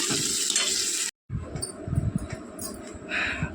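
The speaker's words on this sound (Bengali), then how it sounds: "একটুখানি মশলাটা আগে কষিয়ে নিয়েছি নিয়ে মাছগুলো দিয়ে দিলাম" Crackling sizzle of fish frying in spiced masala in a pan, with stirring and scraping, briefly cut off before the sizzling resumes.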